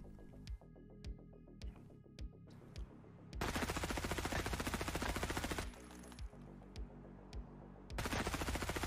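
Weapon fire with heavy recoil in Escape From Tarkov: single shots spaced about half a second apart, then sustained automatic bursts, loud and close with no talking.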